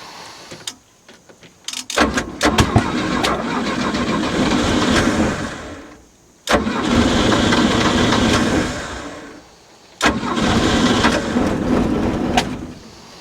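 The Mercruiser 120hp engine of a 1967 Starcraft Holiday boat cranks and runs loud and close, roaring in three sustained stretches broken by short drops as it is started again.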